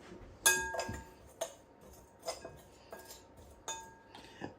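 Lamb kebab pieces tossed in marinade in a bowl, with a handful of sharp metallic clinks and ringing taps of a utensil against the bowl spaced through the clip, fairly close and with no talking.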